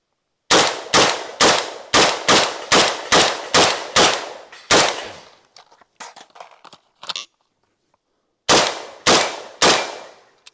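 An R&R Customs shotgun fires a rapid run of about ten sharp, loud, close shots, then a pause filled with reloading clicks and clatter, followed by three more quick shots.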